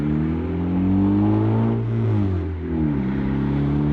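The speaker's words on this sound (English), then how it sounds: "The car drives beautifully," A project car's engine hums steadily while driving, rising and falling in pitch as it accelerates and shifts, loud and close with no speech over it.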